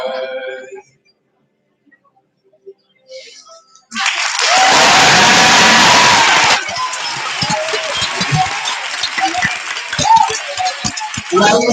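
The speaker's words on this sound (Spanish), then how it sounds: "Y ahí está el aplauso" At the end of a song in a school talent show held at IES Sánchez Cantón, a near-silent pause gives way to a sudden, loud burst of audience clapping and cheering, which keeps going at a slightly lower, steady level.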